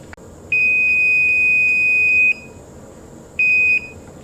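Multimeter continuity tester beeping while checking a short piece of guitar wiring: one long steady tone, a pause, then a shorter beep, clear and close with no talk.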